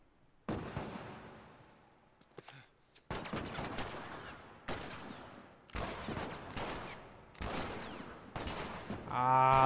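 Repeated bursts of gunfire in The Last of Us, loud sustained volleys separated by short gaps, with a brief metallic ring at the end and no talk over it.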